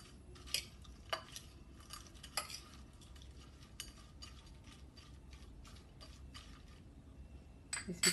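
Mango snack and wafers are stirred in a bowl, giving faint, scattered clinks and taps of a spoon against the dish, with a few sharper knocks spread across a quiet background.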